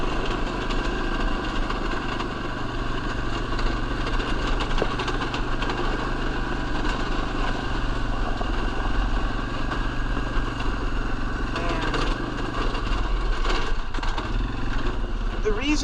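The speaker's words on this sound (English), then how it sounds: "all I have to plow is this four-wheeler" A four-wheeler engine plowing a snow track drones steadily and close, a continuous rumbling idle-like hum that wavers slightly in pitch, with faint talk over it.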